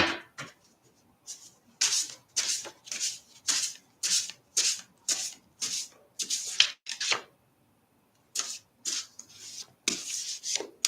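Repeated crisp riffling bursts of cards being shuffled, about a dozen quick rasping sweeps with short pauses between, close and fairly loud, no voices.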